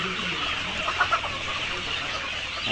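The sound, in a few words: layer chickens clucking in a shed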